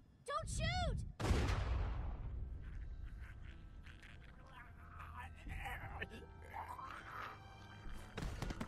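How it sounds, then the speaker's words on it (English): A single loud gunshot booms in The Walking Dead Season 2, followed by a long echoing decay, with tense voices talking before and after it. "That shot rang out for miles."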